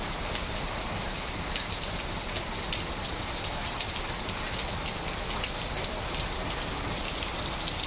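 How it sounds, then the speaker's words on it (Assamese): Steady morning rain falls continuously, a dense, even hiss of drops on surfaces with no breaks and no voices. "ৰাতিপুৱাই বৰষুণ পৰি আছে"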